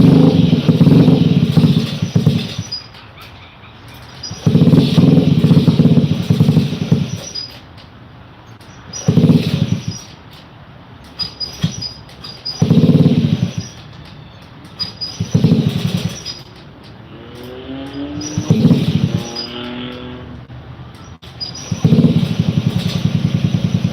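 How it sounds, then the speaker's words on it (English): A Honda Ruckus scooter engine being coaxed to run on electric start despite a suspected fuel pump fault, revving loud and close in repeated bursts that drop back to a rough idle between them. "It's only running with the electric start on."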